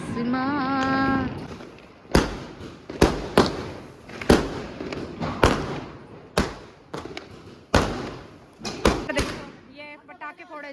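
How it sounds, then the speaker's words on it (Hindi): Firecrackers bursting during a Diwali celebration, a dozen or so sharp loud bangs in an irregular cluster, some doubled, with a voice and a brief tonal sound at the start. "ये पटाखे फोड़े जा रहे हैं।"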